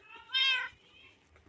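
A cat gives a single clear, drawn-out meow at close range, followed by quiet background and a brief knock at the end.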